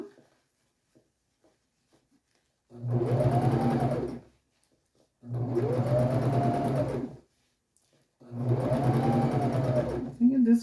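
A sewing machine stitches through a princess seam on a laced, lined bodice, running in three separate bursts of steady mechanical whirring, each about two seconds long, with short silent pauses between.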